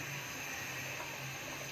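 Water pours steadily into a cooking pot of cauliflower and meat curry, a continuous close, hissing splash at an even level with no talking.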